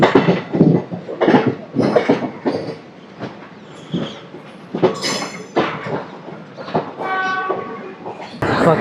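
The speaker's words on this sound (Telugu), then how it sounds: "పక్కనే ఇప్పుడు లోకల్ ట్రైన్ కూడా ఒకటి వెళ్తుంది." A local train running alongside near Chennai, heard from aboard another train as rhythmic rumbling and clattering pulses with some higher metallic squeals, fairly close and loud.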